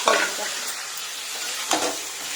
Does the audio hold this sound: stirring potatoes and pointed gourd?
yes